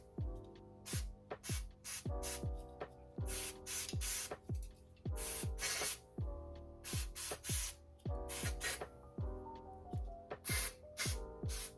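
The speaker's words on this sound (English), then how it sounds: "I'm gonna go in with some spray and I'm just going to spray, you'll see, right at the hairline." Repeated short bursts of hair spray hiss close up at a wig hairline, a dozen or more quick sprays in an uneven rhythm with faint rustling between them.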